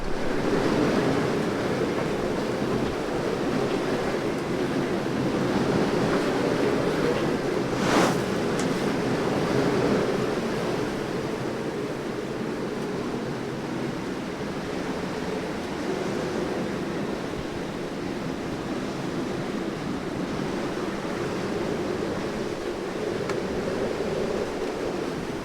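Strong squall wind and surf roar steadily around a sailboat cruising at four to five knots, a dense, unbroken rush of wind and breaking waves throughout, with one brief sharp gust or splash near the start.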